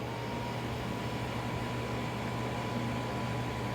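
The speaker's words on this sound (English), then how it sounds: "you can hear the compressor coming on" An air conditioner compressor hums steadily as it runs, drawing power through a Bluetti AC300 split-phase grid pass-through, giving a constant low mechanical drone with a faint mid-frequency buzz and broadband noise throughout, with no break.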